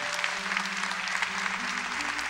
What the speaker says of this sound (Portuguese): Podemos aplaudir